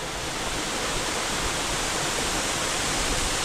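A tall waterfall at Charco Prieto in Bayamón, Puerto Rico, more than 200 feet high, gives off a steady, unbroken roar of falling water that stays constant throughout with no other sounds.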